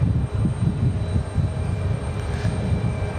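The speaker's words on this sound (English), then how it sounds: "American Airlines headed back to London. This is American Airlines 174 Heavy." American Airlines Boeing 777-200 heavy jet departing Raleigh Durham for London, a loud sustained engine roar with rumbling low end, heard from nearby without talk.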